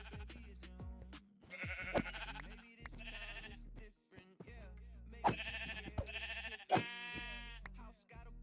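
Rainbow sheep bleating inside Zelda: Breath of the Wild, several repeated game-sound bleats of moderate loudness over a low steady music bed.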